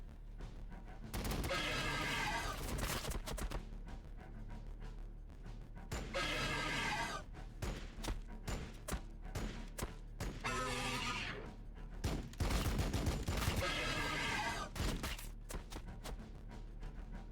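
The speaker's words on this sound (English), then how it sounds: "Tyranids walking into walls of gunfire and ceasing to exist." Bursts of rapid gunfire against Tyranids in Warhammer 40,000: Battlesector come in several sustained volleys, with brief lulls between them, loud and dense.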